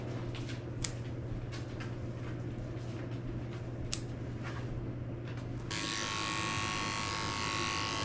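Electric dog grooming clippers with a number 3 blade, trimming a small Yorkie Poodle, hum steadily up close, with a few soft clicks and taps, then the buzz shifts to a harsher, brighter tone near the end.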